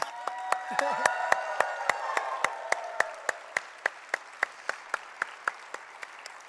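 At a university book launch and capstone ceremony, the audience's applause breaks into a slow, even rhythm of single loud claps over a softer crowd wash, with a brief voice near the start.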